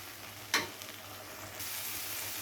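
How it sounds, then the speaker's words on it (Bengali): Tomato paste sizzles with spices in a pan for a Katla posto fish dish, a steady soft frying hiss with a brief louder stir scrape partway through, the sizzle brightening toward the end; no talking. "টমেটো বাটাটাকে এবারে সব কিছুর সাথে আবারও একবার খুব ভালো করে কষিয়ে নেব"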